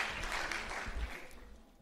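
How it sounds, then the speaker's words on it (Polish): Audience applause at a hotel industry meeting: steady broadband clapping from a room of listeners, fairly even for a couple of seconds before thinning out toward the end. "Dziękuję, proszę, brawa."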